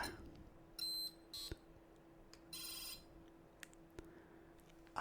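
A retro gaming console gives out sparse electronic beeps and short tonal bursts, spaced irregularly over a steady low hum and fairly quiet.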